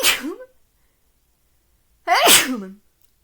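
Two loud, close sneezes separated by a couple of seconds of silence, the second sharper and longer than the first.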